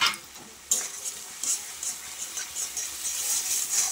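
A mustard masala with salt and turmeric is stirred in a hot pan for a light fish curry, a soft sizzle broken by repeated scraping strokes of a spatula, close and fairly quiet.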